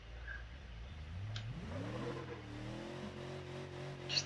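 In the BeamNG video game, a car's engine is floored to full throttle and climbs from a low rumble into a rising, steady rev that holds near the end, loud and close, with no talking.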